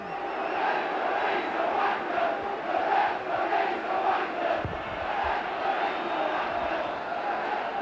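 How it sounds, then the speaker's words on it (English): A rugby league crowd at Leeds versus Castleford roars after a try, a sustained loud mass of cheering and shouting from a large stadium audience, with a heavy thump partway through. "You can hear what the crowd think of that."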